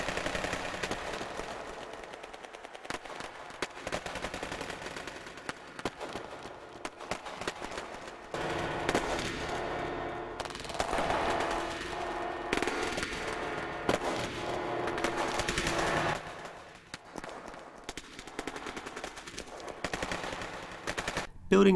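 Gunfire from a video game, slowed down and distorted into a dense, grinding wash of rapid, smeared bursts, running continuously and loudly for about twenty seconds.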